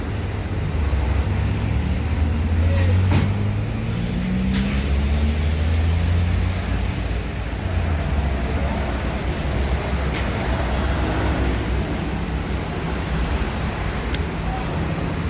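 A Putra Remaja bus pulls away with a low engine rumble that swells and then thins into a broad road-noise wash, with a few sharp clicks over the top.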